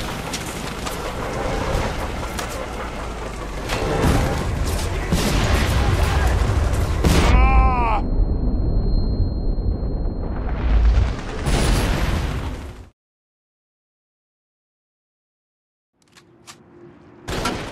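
Gunfire and explosions in The Saboteur come thick and loud, booming blasts and rattling shots piling up for several seconds with a voice over them, then everything cuts abruptly to silence before faint sound returns.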